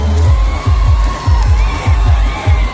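A crowd of bullock cart race fans at a village race in Patna, cheering and shouting, with rhythmic low thumps repeating under the noise.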